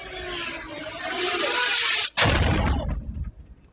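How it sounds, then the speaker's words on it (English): Explosions near an aid flotilla at sea off Crete during a drone attack, a heavy rumbling blast followed by a sharp second detonation and a rolling, fading roar, recorded from on board. "more than a dozen explosions were heard around the flotilla as it sailed off Greece late on Tuesday"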